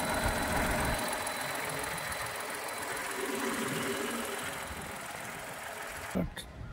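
A 2017 Datsun Redi-GO petrol car engine idles with a steady, even drone that holds nearly unchanged throughout, ending in a brief knock or clunk near the close.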